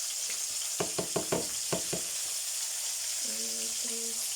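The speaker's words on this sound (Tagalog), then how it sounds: "Yung mga isda na dyan, i-crispy fry na yan." Small fish crisp-frying in hot oil give off a steady, close sizzle, broken by a quick series of knocks and clatters from the pan early on and a brief tonal sound near the end.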